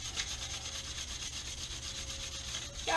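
Steady, rhythmic rubbing and scraping of sandpaper against a 2003 Honda Shadow 750 motorcycle wheel, close up and fairly quiet, with no voices.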